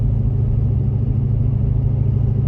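A 6.7 PowerStroke diesel truck fitted with a 6-inch exhaust tip gives a deep, steady low rumble, heard from inside the quiet cab as a continuous drone with no revving and no talking.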